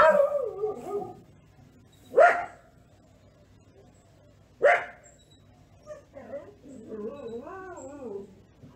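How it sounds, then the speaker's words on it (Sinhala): A dog barks in a few sharp, separate bursts spaced seconds apart, fairly near, with quieter whining or vocal sounds between them and no talk. "බල්ලා අමුත්‍ති කමෝවිට බුරනවා."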